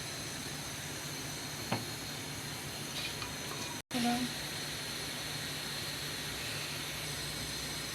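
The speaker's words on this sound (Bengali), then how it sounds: "মাছ ভাজা কড়াইয়ে দিয়ে দিব তেল" Oil hisses in a wok used for frying small fish, a steady close sizzle that breaks off for a moment near the middle and then resumes with a brief clatter.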